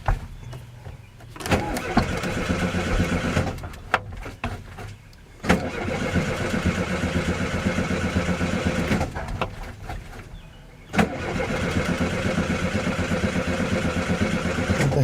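An old International Travelall's engine cranks in repeated starter bursts separated by short pauses, then catches and runs, heard close and fairly loud.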